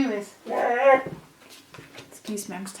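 A pet dog whimpers and yips close by indoors in a short burst, with a person speaking over and around the dog's sounds.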